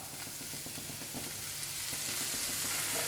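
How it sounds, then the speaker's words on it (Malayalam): Restaurant-style chicken fried rice frying in a pan with dark soy sauce added, giving a loud, continuous hiss and crackle that grows slightly stronger over a few seconds, with no voices. "ഒരു ടീസ്പൂൺ ഡാർക്ക് സോയാ സോസ് ഇതിലേക്ക് ആഡ് ചെയ്ത് കൊടുക്കാം."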